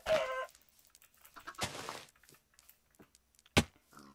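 Minecraft chicken clucks come in a few short, close bursts, followed by a sharp hit-like sound near the end, with no talk.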